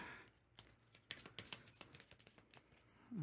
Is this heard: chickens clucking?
no